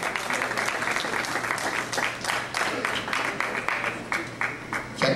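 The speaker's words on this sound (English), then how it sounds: "With a round of applause, can we gently welcome our president of CMPI, Dr. Uche Naeko." Round of applause from the audience at a public lecture as the president is welcomed to the stage, moderately loud, steady and dense clapping from a sizable crowd that slightly swells at the end.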